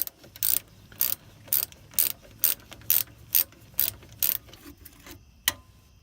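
A hand ratchet clicks in quick repeated bursts, about a dozen sharp close ratcheting strokes in an even rhythm, as a bottom bolt is taken off a car during brake pad work.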